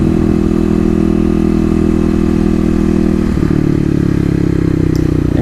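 A 2018 Kawasaki KLX250 motorcycle engine runs loud and close with a steady clattering drone. The pitch drops slightly partway through.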